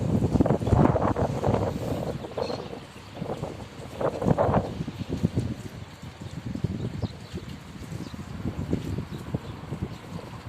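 Strong wind at a seaside pier in Perşembe, Ordu, Turkey, buffets the microphone in uneven gusts, roaring low and rising and falling throughout, with occasional knocks and splashes nearby.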